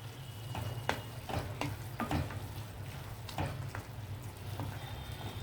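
Curry with cumin and coriander powder being stirred in a pan, soft sizzling under a low stove hum with several distinct scraping strokes of a spoon at irregular intervals.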